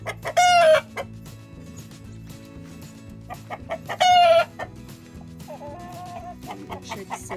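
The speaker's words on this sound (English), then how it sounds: "Mr. Rooster is very upset right now." A garden rooster crowing twice, loud and near, between soft clucking, with a low outdoor background hum.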